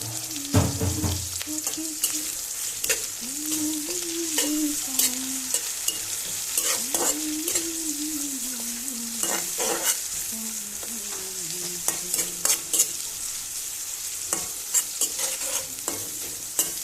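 Dried fish sizzling with onion in a pan, a steady close frying hiss with intermittent stirring scrapes and clatter, while a voice talks over it.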